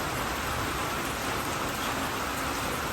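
Steady rain falls continuously on surfaces outdoors, a dense even hiss with no pauses, fairly close and moderately loud throughout.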